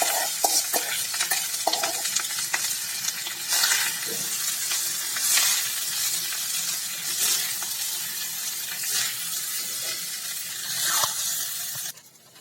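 Cooked rice stirred into cumin sizzling in a pan for jeera rice: repeated scraping spoon strokes over a constant hissing fry, close and busy, cutting off abruptly at the end.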